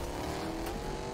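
A Nitro Fang car engine in Fortnite runs as a steady, continuous drone, loud and close, holding an even pitch without breaks and with no talk over it.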